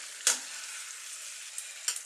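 A zucchini sauté fries in a pan with a steady, close sizzle, while a few sharp scraping strokes of a stirring utensil break through.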